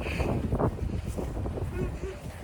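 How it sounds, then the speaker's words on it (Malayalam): Wind rushes and buffets the microphone in gusty bursts, with a voice talking over the blustery noise. "നല്ല കാറ്റ്"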